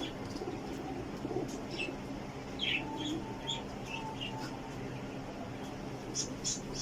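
A Sialkoti black-faced pigeon coos softly among other chirping birds, the calls repeating over a low, steady background hum.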